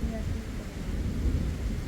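Deep thunder rolls on continuously during a stormy night as rain approaches, a low heavy rumble with no talking.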